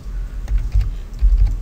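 Typing on a computer keyboard while entering a web address, a steady close run of muffled key clatter with soft thumping strokes and no talk.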